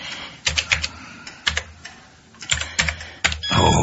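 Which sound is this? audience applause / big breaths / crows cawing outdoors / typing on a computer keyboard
typing on a computer keyboard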